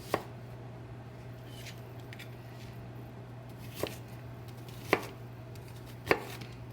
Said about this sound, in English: So I've already peeled my onion, and I'm going to finish chopping.